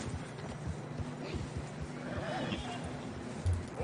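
Horses neigh and plod through fresh snow in a video game on a hunting trip, whinnies and soft hoof clops sitting faintly under a busy game soundscape, with players talking.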